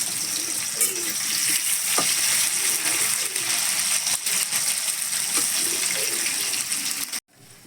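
Potato pieces deep-frying in hot oil give a steady, close, broadband sizzle and crackle that holds for about seven seconds and then cuts off abruptly, with no talking.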